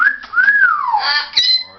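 A macaw or African grey parrot whistles a rising and falling melodic tone, then a wavering note and a short higher whistle, close and loud with no talking.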